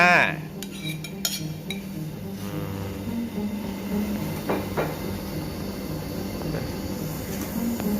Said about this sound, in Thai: ครับต่อไป ใส่เห็ดนางฟ้า